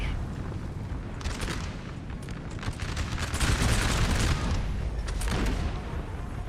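Musket volleys from a skirmish unit in a Napoleon Total War battle crackle in dense, overlapping bursts with booming swells, a loud continuous fusillade of battlefield gunfire.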